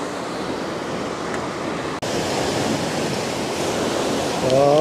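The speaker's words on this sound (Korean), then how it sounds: "바다 소리가 멋있습니다." Sea waves wash and roar continuously along the Jeongdong Simgok coastal trail, a loud, close broadband surf with wind noise over it.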